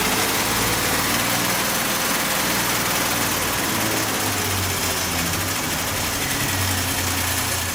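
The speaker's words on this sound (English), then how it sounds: "He's hitting on all six, Rudy." A six-cylinder engine in a barn-find Triumph TR6 runs steadily, loud and close, with a rough, throbbing low rumble and a continuous mechanical clatter all the way through.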